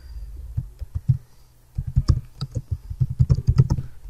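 Fingers tap a computer keyboard in bursts of quick, crisp keystrokes with a short pause between, close and clear.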